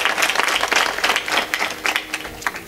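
Loud applause from a gathered audience at a devotional kirtan for a woman pakhawaj player, dense rapid clapping sustained throughout.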